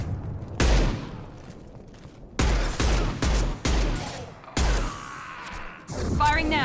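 High-impact shots ring out in the video game Mass Effect 2, several heavy booming blasts spaced irregularly with short decaying tails, one followed by a whooshing energy sweep and shimmering tones.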